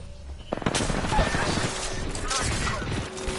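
Rapid gunfire in an Apex Legends arena match, a dense, continuous stream of shots with sharp bursts and clatter in the mix, sustained loudly for the whole stretch.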